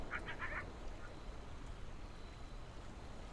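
Coyotes yip around a campsite with a crackling fire in the video game Friday the 13th: The Game, a short cluster of faint, distant high calls at the start, then only soft ambient hiss.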